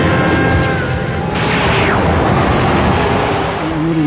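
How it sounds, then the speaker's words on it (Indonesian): A sudden whooshing blast bursts in partway through, a stylized cartoon explosion from Dragon Ball Z as Super Buu blows himself up, sweeping over a loud background of rumbling effects and music. "Super Buu langsung meledakkan dirinya"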